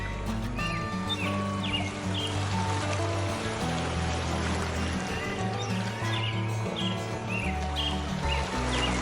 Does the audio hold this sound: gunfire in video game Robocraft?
no